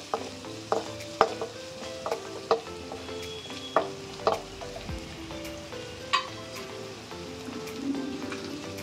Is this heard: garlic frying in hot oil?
yes